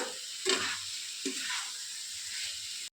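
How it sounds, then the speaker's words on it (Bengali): Potatoes stir-fried in a pan for potol chingri, with a steady hissing sizzle throughout and a couple of soft scraping stirs, close and fairly loud, cutting off abruptly at the end. "আলুটা একটু কষিয়ে নিই"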